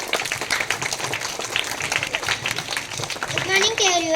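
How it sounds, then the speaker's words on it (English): Scattered clapping from a school audience welcoming a fifth-grade student speaker at a teachers' day tribute, uneven and mixed with children's voices and chatter, with a brief rising tone near the end. "Welcome her with your huge round of applause."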